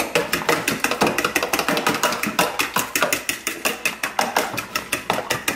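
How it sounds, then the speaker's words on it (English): Banana bread ingredients whisked in a bowl, with a quick, steady run of sharp clicking taps from the whisk hitting the bowl, close and continuous. "now we're gonna whisk that"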